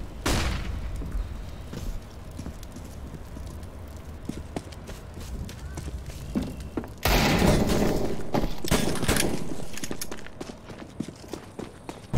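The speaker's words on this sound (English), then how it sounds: "Deploying flashbang." A flashbang grenade goes off in the video game CS:GO, a sudden loud burst at mid-clip followed by a ringing, washed-out wash of noise among footsteps and thuds of a match.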